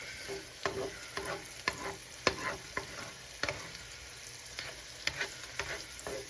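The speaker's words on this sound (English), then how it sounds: "I got the onion in here. And I'm just waiting for it to get good and cooked up here." Chopped onion frying in a pan, a steady soft sizzle broken by repeated sharp scraping clicks of a utensil stirring, roughly every half second, close and fairly quiet with no talk.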